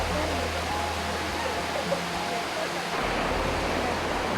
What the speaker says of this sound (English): Nobody told us that they're going to be like waterfalls here.